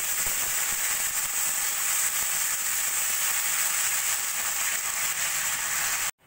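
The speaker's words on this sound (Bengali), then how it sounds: "এদিকে আদা রসুন বাটাটা পেঁয়াজের সঙ্গে ভালো করে ভেজে নিয়েছি।" Ginger garlic paste frying with golden onions for chicken rezala gives a dense, even, close hiss that runs unbroken, then cuts off abruptly at the end.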